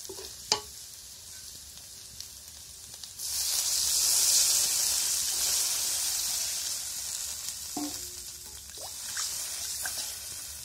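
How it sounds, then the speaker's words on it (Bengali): Spices fry in hot oil: a few clinks and quiet scraping at first, then a loud sizzle bursts in and holds steady, fading slightly while a utensil clatters and stirs. "মশলাগুলো ভালো করে ভেজে ঝোল দিয়ে দিল।"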